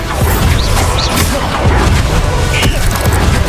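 Bombarda spell explosion in the video game Hogwarts Legacy: a loud, dense blast with crashing, rumbling debris that stays heavy for the whole stretch.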